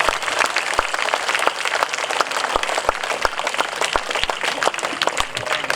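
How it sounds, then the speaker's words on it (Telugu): An audience at a children's music and dance performance applauds steadily, a dense, moderately loud wash of many hands clapping continuously for several seconds, with a few sharper individual claps standing out. "మీరంతా కూడా ఒక్కసారి చిన్నారులందరినీ కూడా మనస్ఫూర్తిగా క్లాప్స్"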